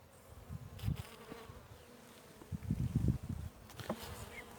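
Honeybees buzz in uneven bursts at an open hive, swelling and fading as they fly close by, with quieter humming between.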